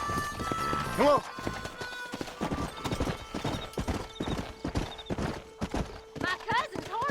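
Rhythmic hoofbeats of a galloping horse with a couple of whinnies, from the video game Red Dead Redemption, with a voice talking over parts of it.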